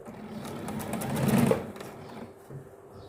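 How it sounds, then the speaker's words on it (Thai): A sewing machine slowly stitches a standing collar onto a garment. Its steady, close whirring builds for about a second and a half, then stops, leaving quiet room tone. "พยายามจะเย็บช้าๆ จะได้ดูแล้วเข้าใจ"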